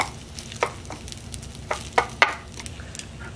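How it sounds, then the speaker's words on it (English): Ramen batter sizzles in a smoking-hot waffle iron, a low steady crackle broken by a few sharp clicks and scrapes as it is spread and the lid pressed shut, close and moderately loud with no talking. "Smoking hot waffle iron right there."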